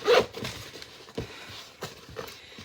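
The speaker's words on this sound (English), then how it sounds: "it's only got the one zipper that goes all the way around" A single zipper running around a mint green medicine bag, a quick sharp zip at the start followed by a few softer scratchy zipper tugs and rustles close by.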